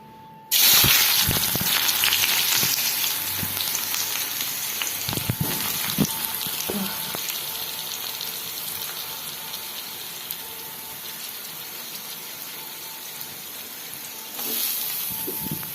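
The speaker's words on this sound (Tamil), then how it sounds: "எண்ணெய் காஞ்சதும் நம்ம வெட்டி வச்சிருக்க வெங்காயத்தை இது கூட சேர்த்துடலாம்" Chopped onions drop into hot oil in a kadai and burst into a loud, sustained sizzle that slowly settles to a steady fry, broken by a few stirring knocks, with a brief surge near the end.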